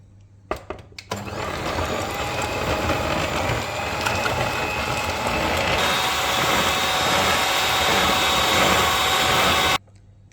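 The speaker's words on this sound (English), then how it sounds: "cream together the butter and the sugar" A blender or electric mixer creams butter and sugar together, running as a loud, steady whir for about nine seconds after a brief start-up burst, then cutting off.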